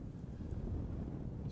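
Wind blows over a sailboat at sea during a crossing off Corsica between Calvi and Ajaccio, a short, low, steady rush of microphone buffeting.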